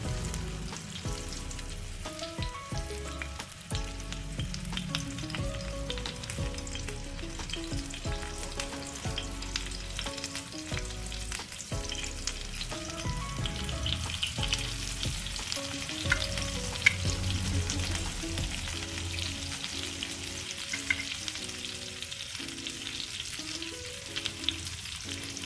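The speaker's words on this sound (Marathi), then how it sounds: "आपण याला 2-3 मिनिटं हाय फ्लेमवर तळणार आहोत आणि त्यानंतर लो फ्लेमवर तळून घेणार आहोत" Fish fries in a pan over a high flame, a continuous crackling sizzle with occasional stirring and pan knocks throughout, no voices.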